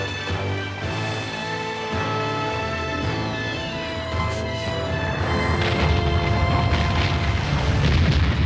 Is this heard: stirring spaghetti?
no